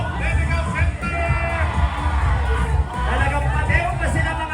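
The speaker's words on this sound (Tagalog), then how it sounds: "isang malakas na hiyawan!" Crowd at the Araw ng Pasig 2026 Grand Civic Parade street festival in the Philippines, with cheering and scattered whoops rising from a constant babble of voices, close and loud, while people talk over it.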